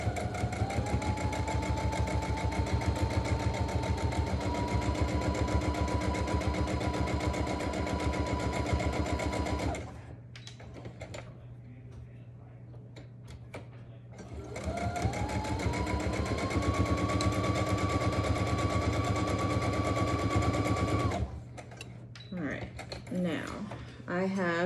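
A sewing machine runs steadily, stitching the edges of a fabric face mask with white thread. A long continuous run of rapid mechanical whirring stops briefly, then a second run follows before it halts again, close and prominent.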